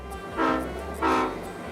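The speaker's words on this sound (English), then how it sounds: "I can't miss the chance to take a ride on this classic diesel engine." A classic American diesel locomotive sounds its horn in two loud, close, chord-like blasts separated by a short pause.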